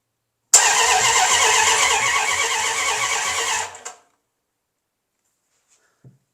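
A car engine starting for the first time in ten years, cranking and catching into a loud, close, rough run for a few seconds before cutting off abruptly, followed by silence and a faint click.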